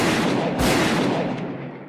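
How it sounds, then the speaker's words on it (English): A single loud, booming gunshot blast at night that rings out and slowly fades, heard close and alone. "5 gunshots pierced the night."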